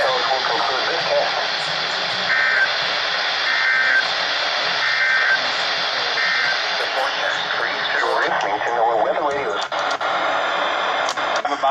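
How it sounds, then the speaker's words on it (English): Emergency Alert System required monthly test tones, a series of short repeated electronic beep bursts under a broadcast radio bed with speech. "The following tones will conclude this test."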